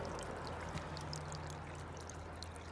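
Water from a solar-powered brass pollinator fountain trickles and splashes softly, recirculating in a faint, steady stream outdoors with a low background hum.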